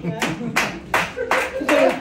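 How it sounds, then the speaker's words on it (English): Comedy club audience at the Broadway Comedy Club in New York giving a few scattered bursts of clapping, short uneven rounds from a small crowd, close and moderately loud. "Clap it up."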